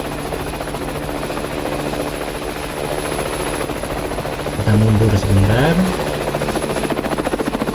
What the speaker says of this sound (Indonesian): Yuk kita balik arah lagi, masih tetap di atas helikopter.